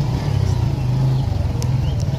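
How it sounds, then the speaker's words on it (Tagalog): Motorcycles ride along a road, their engines giving a loud, close, rumbling drone with a brief rising rev, while a voice is faintly audible underneath. "marami pa mga motor na sumunod sa amin"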